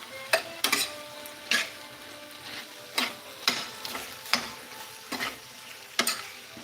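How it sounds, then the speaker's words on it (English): Rice noodles and green curry are sauteed over very high heat, with a constant sizzle broken by repeated sharp stirring and scraping strokes in the pan at an uneven rhythm, up close and without speech. "I'm gonna turn my heat all the way up, super high heat. Just so I can saute somewhat everything."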